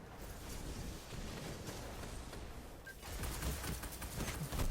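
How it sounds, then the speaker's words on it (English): Gunfire and blasts from a grenade going off during an Iron Banner match in the video game Destiny, a dense, continuous barrage of loud shots and bursts that grows heavier toward the end. "Right there, I got that grenade."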